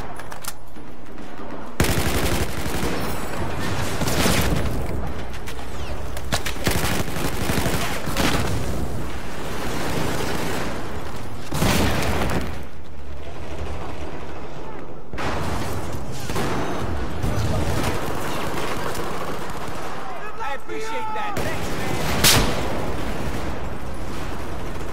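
Video game gunfire rattles in repeated bursts of automatic fire with sharp single shots between them, loud and close, with short lulls and no talking.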